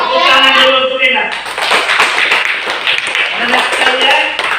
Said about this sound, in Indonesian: Tepuk tangan dulu untuk Hendak